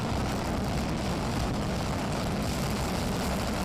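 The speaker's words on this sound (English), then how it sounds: "somewhere in the blackness, 4 engines begin to howl" The four engines of a B-1B bomber howl on startup, a heavy, steady roar, broad and constant, droning loudly without pause for several seconds.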